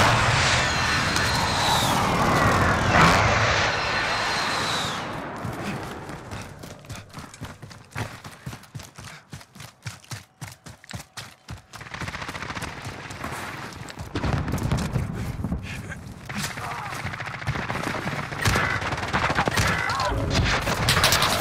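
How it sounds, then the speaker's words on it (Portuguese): A precision airstrike in Warzone: loud bursts and rolling blasts at the start, then a long run of rapid sharp cracks, followed by heavy rumbling explosions and further gunfire. "Ataque aéreo de precisão a caminho."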